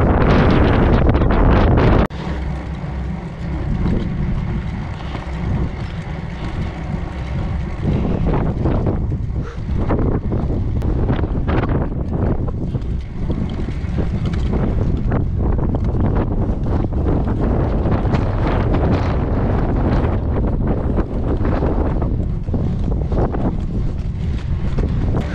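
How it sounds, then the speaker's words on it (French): Strong wind buffeting a microphone while cycling up Mont Ventoux, heavy low rumbling gusts with constant roaring turbulence, loud and close for the whole stretch. "Je crois qu'il y a un peu de vent là"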